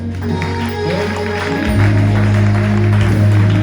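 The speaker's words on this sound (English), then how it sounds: "somebody clap hands and appreciate God" A church congregation at a night of prayer service claps hands together, a busy patter of claps running beneath loud, sustained musical tones that swell partway through.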